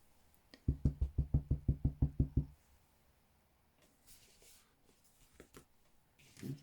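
A rubber stamp pressed repeatedly onto a 6x6 card made from Stampin' Up! Sweet Symmetry designer paper, giving a quick run of about ten close, even knocks, then quiet with a few faint taps and rustles.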